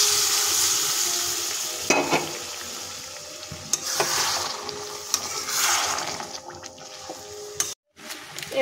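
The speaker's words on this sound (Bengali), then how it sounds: "এবার চানাটা ঢেলে দেবো" Boiled chickpeas with potato go into a hot pan and get stirred, bringing a soft sizzle, scraping spoon strokes and a few clattering bumps, with a short gap near the end.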